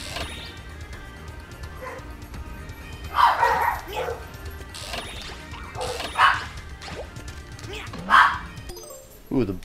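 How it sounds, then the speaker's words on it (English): Dogs bark in the video game Klonoa in several sharp bursts over a steady noisy background of heavy rain, fairly loud and spaced a second or two apart. "dogs are barking."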